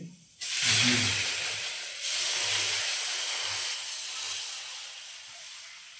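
Jaggery-sweetened flour batter sizzles as it hits a hot wok, a sudden loud hiss that swells twice and then slowly settles into a softer steady sizzle.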